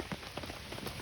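Rain pattering steadily on surfaces at a woodland campsite where food is cooking, a dense, continuous patter with scattered nearby drops.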